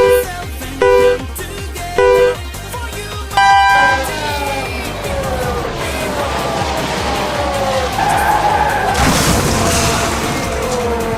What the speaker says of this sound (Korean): B팀의 1호차가 미끄러지며 가드레일을 들이받습니다.